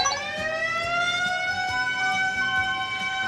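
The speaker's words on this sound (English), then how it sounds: "Another is a siren on a police car or a fire truck." A police car or fire truck siren wails continuously in a steady rising and falling tone, loud and close, with faint background rumble and no voices.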